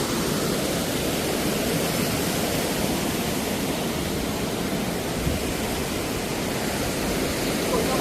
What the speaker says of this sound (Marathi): धबधबा चालूच असतो.